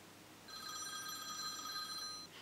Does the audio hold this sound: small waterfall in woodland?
no